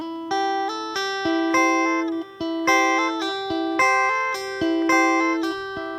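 An electric guitar plays a lick: crisp, evenly picked notes and quick runs, with short percussive muted strikes between phrases, played solo and close.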